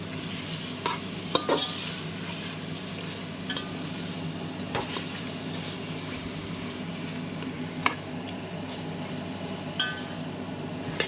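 Mutton pieces fry and sizzle in hot oil over a high flame for a restaurant-style mutton biryani, with a steady close sizzle and intermittent stirring scrapes and clinks of a spoon against the pan.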